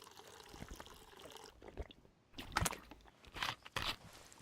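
Gulping and sloshing of water drunk from bottles in the DayZ survival game, a few uneven wet swallows and trickles bunched together, close and moderately loud with no talk.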